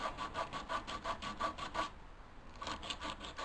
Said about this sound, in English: 80 grit sandpaper and start working the tenon into a round them off